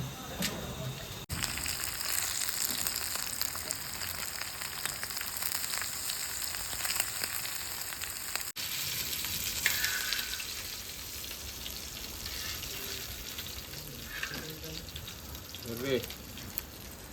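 Halwa fish (pomfret) frying in a pan, a steady close sizzle and crackle of oil running throughout, with people talking over it.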